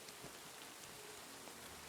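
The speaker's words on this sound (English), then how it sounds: "It's raining, so you never know." Rain falling in the medieval open-world game Kingdom Come 2, a soft, steady patter of drops on surfaces, faint and continuous with no talk.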